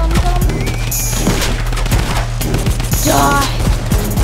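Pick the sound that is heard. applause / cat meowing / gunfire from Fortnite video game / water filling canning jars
gunfire from Fortnite video game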